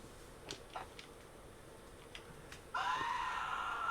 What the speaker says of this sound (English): Have you heard a man scream?